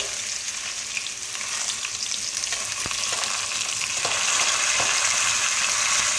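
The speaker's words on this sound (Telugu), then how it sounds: "కొన్ని ఆవాల గింజలు వేసుకున్న తర్వాత చిట్టపోట్లు ఆడుతున్నాయి" Mustard seeds spluttering and thinly sliced red onions frying in hot oil for an okra and prawn dish, a dense continuous sizzle with scattered sharp pops, close and loud.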